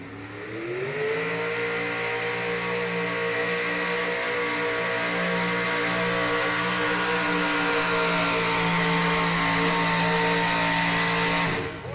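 A truck-pulling rig roars down the track at an NTPA truck and tractor pull at the NC State Fair in Raleigh, one loud, sustained high-revving engine howl holding steady for about eleven seconds before cutting off.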